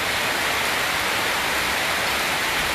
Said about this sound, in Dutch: Het regent, iedereen wordt nat.